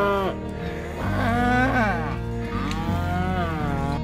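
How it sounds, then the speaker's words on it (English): Belted Galloway cattle on a farm low out in a long, loud, drawn-out moo with wavering pitch, close by and clear. "Cows asking to move fields."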